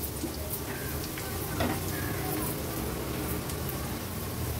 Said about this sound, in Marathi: हळद आणि मसाला कांद्यामध्ये परतून घ्यायचा आहे छान